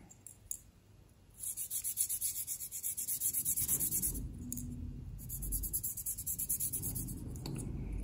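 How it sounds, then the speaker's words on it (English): The top of a model ship funnel is rubbed on 1200-grit abrasive in quick, rhythmic back-and-forth strokes, close and steady, with a short pause partway through. "I will just give the top a rub and just a wee bit on some 1200."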